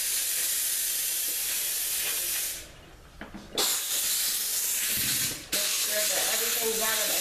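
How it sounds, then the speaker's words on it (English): A steam cleaner works along kitchen baseboards, giving off a loud continuous hiss that briefly drops away and surges back a couple of times, with faint handling noise in the gaps. "I've got my steamer ready, and I'm just going to grab it"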